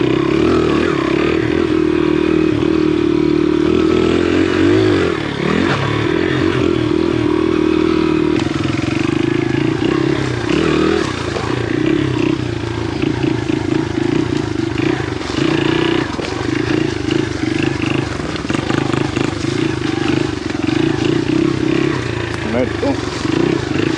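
A Honda XR80 dirt bike ridden along a freshly cut woodland trail, its small engine buzzing and revving continuously up close, with throttle swells and clattering over rough ground throughout.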